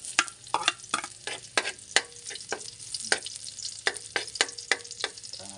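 Onion and ginger sautéing in a pan, crackling sizzle broken by frequent sharp spatula scrapes and taps in an irregular rhythm, close up with no voices.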